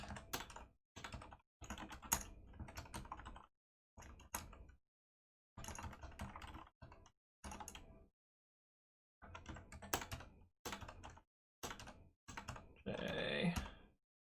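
Computer keyboard typing during a Python and SQLite coding session, with close, quiet bursts of rapid keystrokes separated by brief pauses.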